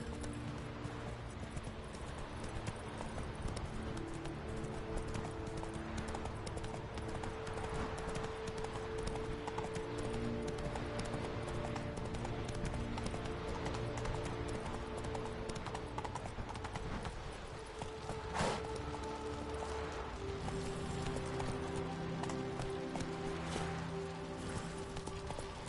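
A horse's hooves clip-clop at a steady galloping rhythm in The Witcher 3 video game, continuous and mixed with game music and ambient sound throughout.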